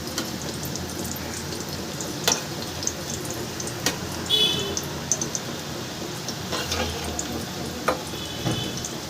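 Muri pakoras deep-frying in hot oil over a low gas flame give a steady, soft bubbling sizzle throughout, with a few small clinks and taps on top.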